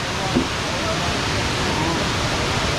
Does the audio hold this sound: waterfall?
yes